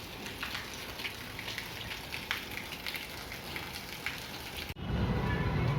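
Steady rain falls with dense patter and droplet hiss, close and constant, then it abruptly shifts to a heavier low rumble near the end; no one talks.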